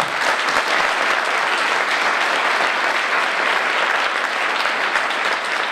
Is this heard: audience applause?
yes